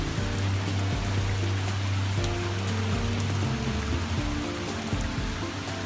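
Steady rain falls outdoors in Charlotte in the American South on a fall day, a dense, even hiss of drops on surfaces that stays close and constant throughout, with a faint low hum beneath and no voices.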